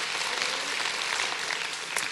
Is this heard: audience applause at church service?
yes